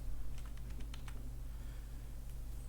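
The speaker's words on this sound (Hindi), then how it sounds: "ऑर्डर नंबर के कॉलम में वो ऑर्डर नंबर एंटर करें" Fingers tap out an order number on a computer keyboard in an office software session, a quick burst of a dozen or so light clicks over a steady low hum, then a couple of isolated keystrokes.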